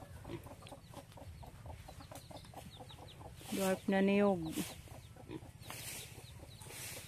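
Chickens cluck in the background while a person talks, with one louder drawn-out squawk from a hen with two chicks partway through, outdoors and mid-distance.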